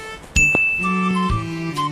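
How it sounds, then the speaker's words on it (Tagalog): A doorbell buzzer in Prague rings out with a few bright electronic tonal notes after a sharp click, close and clear in a quiet space. "pinindot ko yung doorbell"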